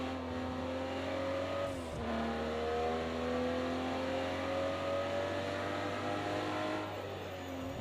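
Aston Martin DB11 race car in Project Cars 2 at Bathurst, its engine droning steadily at high revs with a brief dip in pitch near two seconds, then climbing again, loud and alone.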